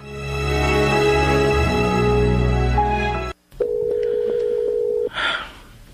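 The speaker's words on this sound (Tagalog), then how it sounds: "Nagsige na mag-ring, wa magyapon to baga." A mobile phone call being placed: a dense electronic tone gives way after a brief silence to a steady ringback tone, with a short burst of noise near the end and no talk.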